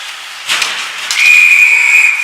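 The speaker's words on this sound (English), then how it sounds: "And play whistle down here." A referee's whistle blows during an under-18 major ice hockey game, a sharp sustained shrill tone rising over a brief burst of arena noise, loud and close, with no talk.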